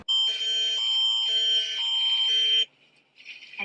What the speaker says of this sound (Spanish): sonó nuestra alarma en el teléfono.